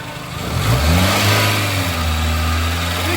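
A Dacia Renault car engine, checked for a fan and overheating fault, revs up and then holds at a steady high idle, loud and close with a constant drone.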